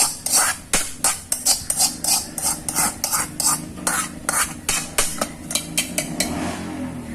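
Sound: stirring unniyappam batter of rava, maida and jaggery

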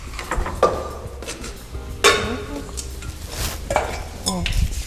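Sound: stirring food in a large pot

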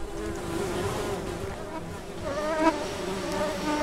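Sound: buzzing flies in a video game

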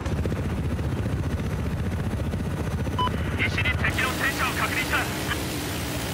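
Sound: helicopter in video game Battlefield 4

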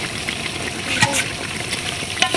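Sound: stirring vegetables cooking in a pot for khichuri

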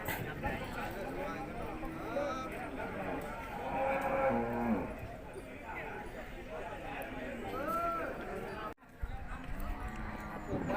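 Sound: cow mooing at a cattle market

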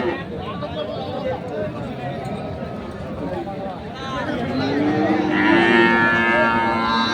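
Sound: cattle mooing at a livestock market

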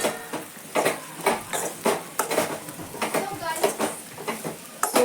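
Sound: stirring and mixing chopped pieces in a pot

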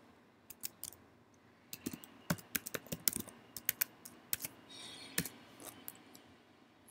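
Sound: typing a password on a computer keyboard

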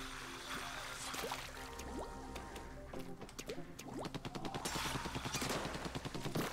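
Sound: shooting targets in video game Splatoon 2

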